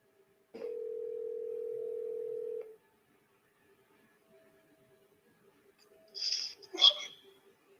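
A steady telephone dial tone hums for about two seconds while a call is placed, followed by silence and then a brief burst of a voice on the line.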